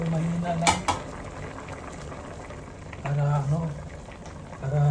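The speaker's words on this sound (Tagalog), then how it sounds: "Ayan, kumukulo ng mga idol." Fish paksiw with apple cider vinegar boiling in a pot on the stove, a soft steady bubbling with a few clinks of utensils and brief tonal sounds, heard close by.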